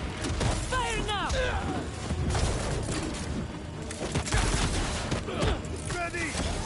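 Dense bursts of gunfire and mechanical clatter in the Spider-Man 2 video game, loud and continuous, mixed with voices and whooshing effects.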